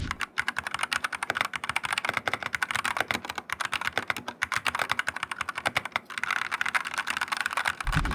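Rapid, dense clicking of a mechanical keyboard being typed on at a steady pace, loud and close with no voices, pausing briefly near the middle before continuing.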